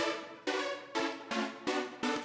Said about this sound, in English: But that's what the synth is. It's mostly just doubling everything.